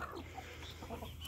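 Chickens being fed chayote cluck softly and continuously, several birds murmuring close by against a steady low background rumble.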